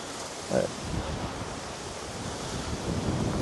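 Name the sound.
wind gusts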